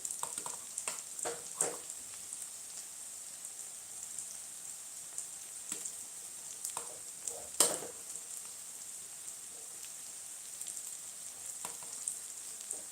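Onions fry in a pan for lemon rice (chitranna) with a constant soft sizzle broken by scattered crackles and spits, one sharper pop midway, and no talking.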